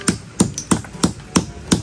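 Six sharp hammer blows cracking open telescope shells (bagungon), evenly spaced and close, each a crisp knock against a hard surface with no talk.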